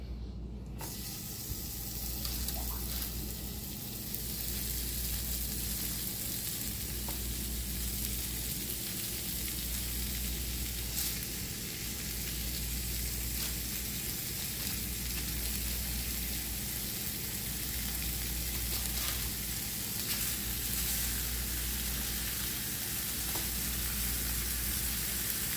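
Bacon-wrapped ground meat rolls brown in a pan with a steady, soft sizzle and faint crackles that carry on evenly and alone, over a low pulsing hum.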